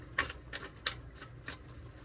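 Tarot cards are shuffled in a few quick riffling bursts, four or five short soft flutters spaced evenly, close and quiet with no talking.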